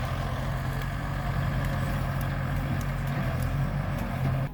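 A decorated farm tractor loaded with cassava drives off, its engine a steady low rumble heard close and continuous throughout.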